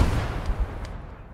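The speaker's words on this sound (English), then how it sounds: "throw on some... Boys MK AK rifle rounds at it" A Boys anti-tank rifle round is fired in the Gates of Hell World War II strategy game: a single heavy, booming report rolls off into a low rumbling tail that fades within about a second, with no talking.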